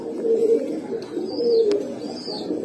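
Pet pigeons, including Pankhi, Grizzle and Baghdadi Homa breeds, coo nearby in two soft, rolling phrases with a short pause between them, plus a faint chirp or two in the background.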